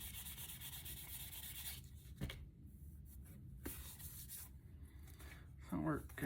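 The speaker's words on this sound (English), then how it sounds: "So I'm gonna just start with 800 grit sandpaper." Hand sanding of plastic car trim pieces from a 350z with 800 grit sandpaper, a faint, steady rubbing hiss with a few short pauses and louder strokes near the end.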